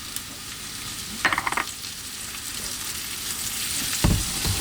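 Ginger and garlic sizzle in hot oil while being stir fried for a green bean dish, a steady frying hiss with brief bursts of stirring clatter.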